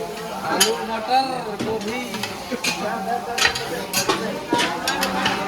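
A ladle scrapes and clinks against a large pot as a potato, pea and cauliflower curry is stirred for a village feast, with voices talking nearby in the background.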